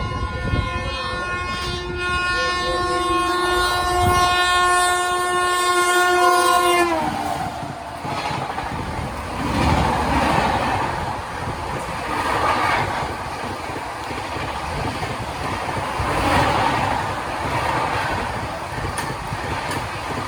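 The 12688 Chandigarh Madurai Superfast Express runs at speed, a long loud horn blast sounding first, then a steady rumbling roar with rhythmic wheel clatter, heard from on board.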